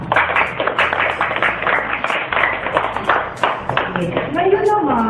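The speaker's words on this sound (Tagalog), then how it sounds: "bigay din natin sila ng malakas na palakpak" Loud, dense applause from an audience honoring the judges at a student debate, with fast overlapping claps filling the room and a voice talking over it near the end.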